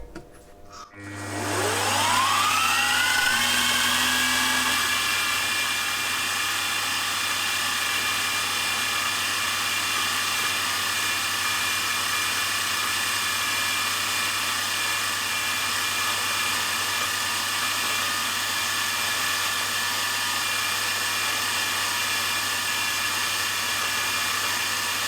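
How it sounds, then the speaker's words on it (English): Steady high-pitched whir of a small drill with a micro chuck running up to speed, a centre drill and then a 1/16 inch bit working metal for a V-twin engine's valve guides, a continuous close drone with no talk. "Once I've centre drilled, I'll go through with a 1/16 of an inch drill bit."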